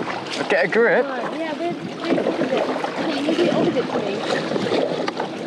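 Kayak paddled into a headwind, with broadband wind and water noise running steadily throughout while people talk close by over it.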